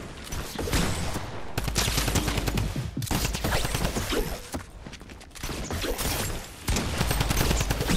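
Gunfire fills a Fortnite Zero Builds ranked solo fight, loud rapid bursts of shots in several volleys with short gaps between them, up close and with no voices.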